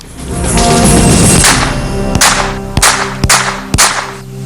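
A test-fired gun lets off a series of sharp, loud shots, about four spaced cracks following a rushing noise, each a distinct close report.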